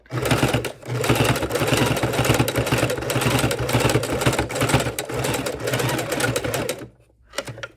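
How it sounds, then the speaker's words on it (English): A sewing machine stitching a fabric wallet keychain purse runs in a loud, rapid, steady mechanical whir close by for several seconds, then stops abruptly with a brief quiet handling sound after. "we're going to stitch out this side"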